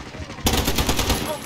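Rapid machine-gun fire in Call of Duty Modern Warfare: a near-silent moment, then a loud continuous burst of fast shots that opens quickest and carries steadily to the end.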